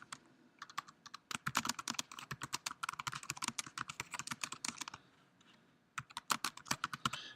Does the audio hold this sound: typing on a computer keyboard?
yes